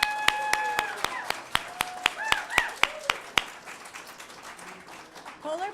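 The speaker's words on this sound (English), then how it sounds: "I think that deserves a round of applause" A crowd at the NASDAQ Closing Bell Ceremony in Times Square claps, sharp individual claps ringing out in a loose rhythm before blending into a softer patter, with voices calling out briefly over it.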